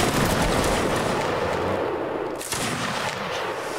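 Musket volley fire in the game Mount & Blade, a loud, dense crackle of many shots blending into one sustained roar that briefly thins near the middle before swelling again.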